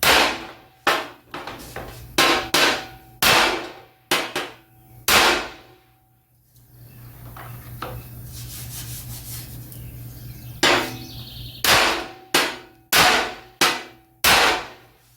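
Heavy hammer blows bending the bumper of a 1977 Chevrolet Cheyenne C10 pickup, sharp metallic strikes in quick rhythmic bursts, a short pause with scraping noise midway, then another volley of loud, close hits.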